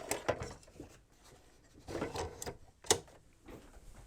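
A sewing machine stitching down the raw edges of a fabric appliqué with light brown thread, heard as a quiet, uneven run of clattering stitches and small mechanical knocks, close by with pauses in between.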